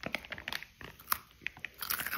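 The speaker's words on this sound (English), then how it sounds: "ASMR. Skip if you don't like chewing." Close, crisp crunching and chewing of a snack, a quick series of bites and crunches with brief pauses between them.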